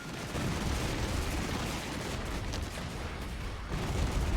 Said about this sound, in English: we've got a lot of fire coming in